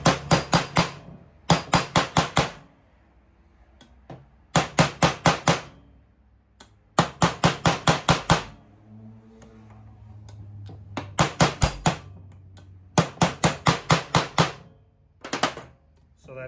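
Sharp metal-on-metal hammer blows drive a bearing into a Honda CR250 motorcycle, struck in quick bursts of four to six hits with short pauses between groups, close and crisp.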